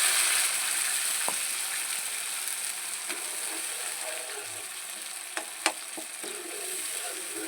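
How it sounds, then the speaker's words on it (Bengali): Tomato sauce sizzling in hot oil in a frying pan, a steady bright hiss with occasional soft clicks and taps from stirring, fading slightly over time. "আবারও গ্যাস একটা ফ্রাই প্যান বসিয়ে দিলাম আর দিয়ে দেব বড় চামচের এক চামচ তেল দিয়ে দিচ্ছি টমেটো সসটা"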